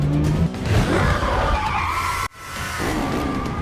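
A red luxury Ferrari skids with loud tire squeal and engine roar inside a building during a film escape, the screech sweeping continuously, cutting off abruptly, then resuming with renewed squealing.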